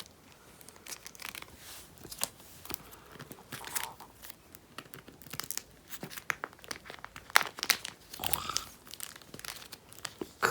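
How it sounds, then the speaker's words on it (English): Brand new plastic photocard binder pages crinkle and crackle close to the mic. The bursts are irregular and fairly quiet, with repeated sharp rustles and crunches while the pages are handled, and no talking. "crinkles the brand new pages"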